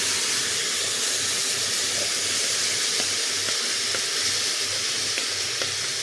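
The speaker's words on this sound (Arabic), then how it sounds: "دلوقتي بقى انا جبت الطاسه وسخنتها كويس جدا، وهنزل عليها بالشاورما كده من غير اي حاجه خالص" Frozen shawarma meat hits a well-heated pan with no oil and sizzles in a loud, steady hiss, frying close by with small pops and no talk.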